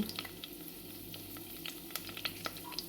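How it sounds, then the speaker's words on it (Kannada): Cumin, mustard seeds and lentils crackling in hot oil, with a steady sizzle under scattered sharp pops and spits, close by and fairly quiet. "ಜೀರಿಗೆ ಸಾಸಿವೆ ಮತ್ತು ಬೇಳೆ ಹಾಕ್ತೀನಿ ನೋಡಿ ಈಗ ಮೂರು ಹಾಕ್ತೀನಿ ಈಗ ಇದೆಲ್ಲ ನೋಡಿ ಈಗ ಎಲ್ಲ ಚಟಪಟ ಚಟಪಟ ಅಂತ ಇರಲಿ"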